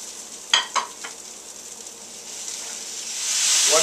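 Mushrooms hit a hot stir-fry pan alongside spinach and green onions, giving a few sharp clatters before a steady sizzle rises and swells louder toward the end.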